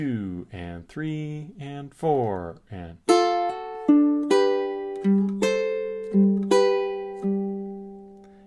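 A ukulele plays measure 5 of a blues progression after a spoken count-in, with plucked notes and chords ringing out one after another at a steady, moderate pace, close and clear.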